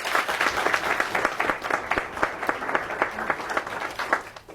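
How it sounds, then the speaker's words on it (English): A conference audience at an energy summit applauds loudly and steadily for several seconds, with dense clapping that slowly thins toward the end. "Round of applause."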